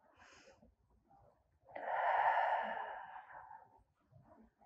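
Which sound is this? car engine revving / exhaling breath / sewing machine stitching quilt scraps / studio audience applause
exhaling breath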